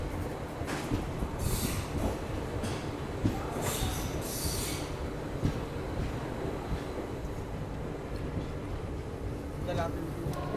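Sabarmati–Haridwar summer special train 09425 running between Alvar and Rewari, a steady rumbling roar of wheels and carriage from inside, with faint squeals and wind buffeting throughout and talk over it.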